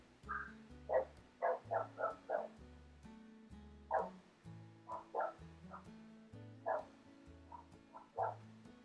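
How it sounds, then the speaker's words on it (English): Pet dogs indoors bark in short repeated bursts, several yips and woofs in clusters, fairly faint and somewhat distant over a low background tone with no talk. "Sorry, my dogs are barking."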